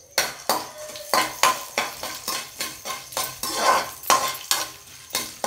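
Coriander seeds, cumin, fennel and black pepper dry-roasted in a pan with cinnamon and cloves, a quick regular series of metallic spatula scrapes and clinks against the pan, close and with no voices.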